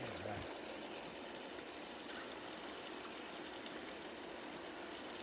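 Water rushes steadily through a highbanker sluice used for gold prospecting, a faint, even wash of flowing water with a short low thump at the start.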